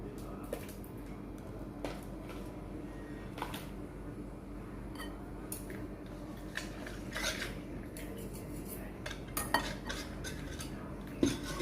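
A knife slicing through a block of butter for a coconut-free maja mais, giving scattered light clicks and soft taps against a board over a steady low kitchen hum.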